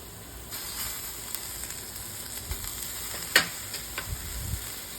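A smash burger patty topped with onion sizzles on a hot griddle as it is pressed down, with a steady, moderately loud hiss and a sharp scrape or press near the middle, and no talking.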